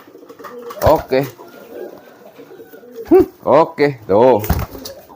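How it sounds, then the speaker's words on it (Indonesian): Racing pigeons coo in several loud, close bursts with brief pauses between them, while a person speaks briefly in between. "Ini jenisnya merpati balap."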